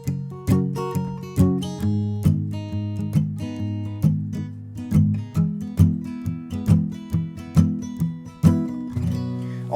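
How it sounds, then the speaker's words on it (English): Acoustic guitar strummed in a steady, bouncy rhythm with light palm muting on some strokes, playing the chords of Jason Mraz's "I'm Yours"; clear, close and alone, with no voices. "Also, there's a little palm muting going on too."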